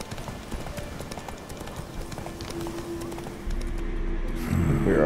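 Rhythmic clip-clop of a horse's hooves at a quick pace in the video game The Witcher 3, with a low rumble joining in toward the end.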